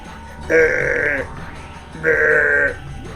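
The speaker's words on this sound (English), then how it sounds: "She's summoning goats." Two loud, drawn-out goat bleats from the Umineko visual novel game, each lasting under a second with a short gap between, close and clear over a low background hum.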